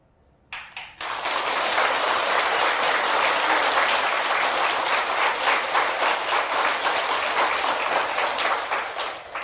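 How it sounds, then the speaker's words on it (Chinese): Loud, sustained applause from a lecture audience erupts after a brief first burst of claps and carries on evenly for several seconds, dense and close, fading slightly at the end. "鼓掌也没有用"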